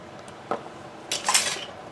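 Squash casserole ingredients with salt and black pepper stirred in a pan, a few sharp metallic clinks and scrapes of a utensil against the pan, close and brief with no talk.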